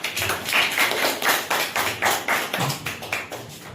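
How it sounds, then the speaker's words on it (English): Applause for a child in a classroom, many hands clapping together in a dense, steady patter that pulses slightly, close and loud with no voices over it. "Big clap for Harshit."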